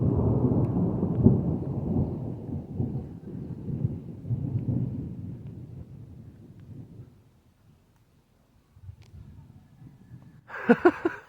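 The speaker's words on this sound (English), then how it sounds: "That's a lot of thunder." Deep, rolling thunder rumbles loudly for several seconds, slowly fading into near silence before a brief sharper sound at the end.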